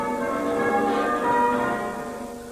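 Village church bells ring together in a sustained, resonant peal, the overlapping tones blending into a steady wash of sound, moderately distant, with no voices.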